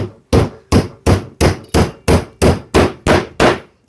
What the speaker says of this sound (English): So first, we're going to have to embed our nail.